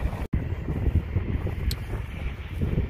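Wind buffets a microphone with low rumbling gusts, loud and continuous, with a brief dropout near the start.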